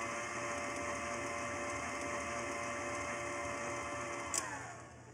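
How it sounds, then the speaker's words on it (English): An electric mixer creams butter and icing sugar together for lemon tart dough, giving off a steady, even motor whir that drops away at the end, with no talking. "so I'll cream the butter and sugar together"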